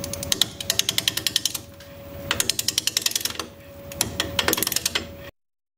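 A yew natural-edge bowl spins on a wood lathe at about 630 RPM, held in a chuck, with the tool cutting. It gives a fast, rhythmic clatter of close clicks over a steady low hum, in bursts with brief pauses.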